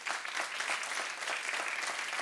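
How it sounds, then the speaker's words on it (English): A church congregation giving a big round of hand clapping: dense, sustained applause from many hands, steady and fairly loud throughout. "Can we give the Lord a big hand clap for that?"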